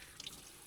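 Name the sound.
water running through water filtration system bypass valve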